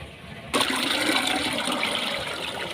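Cow dung water suddenly pours out in a loud, steady rushing splash that starts abruptly and keeps going for a couple of seconds.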